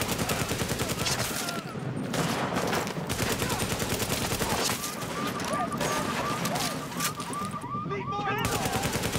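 Heavy automatic gunfire rattles without pause in the video game Tom Clancy's The Division, loud and dense from start to end, with a synthetic voice announcing warnings over it.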